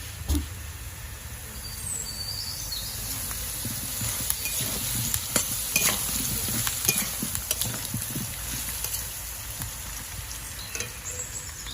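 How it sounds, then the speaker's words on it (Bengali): Potatoes frying in hot oil in a village kitchen, a continuous crackling sizzle with small pops and occasional stirring scrapes, close and steady throughout. "ভালো করে আলুগুলো লাল লাল করে ভেজে নিই।"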